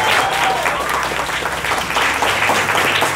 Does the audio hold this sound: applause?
yes